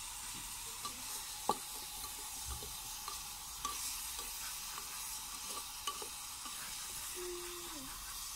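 Bilimbi pickle being stirred in a pan, a soft steady sizzle with occasional scraping knocks from the spoon, quiet and close.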